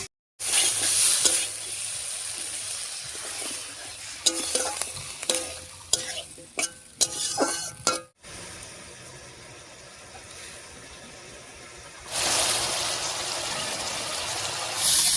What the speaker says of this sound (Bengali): এবার একটুখানি মশলা বাটা জল দিয়ে কষিয়ে নেব।